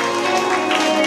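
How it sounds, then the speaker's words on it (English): A church congregation claps together as a clap offering to Jesus, a short burst of dense, continuous applause with voices mixed in. "Honor the Lord Jesus with a clap offering."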